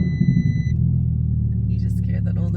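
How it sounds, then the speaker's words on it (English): An Audi R8 starts up with a deep, steady engine rumble that settles into a loud idle, and voices come in near the end. "Starting the car."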